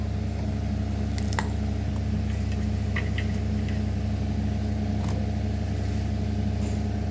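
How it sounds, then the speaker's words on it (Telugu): A mixer grinder works mint, garlic and green chillies into a dry paste, giving a steady, unbroken motor hum that holds at an even level for the whole stretch. "దీన్ని మనం మిక్సీ పట్టుకుందాం"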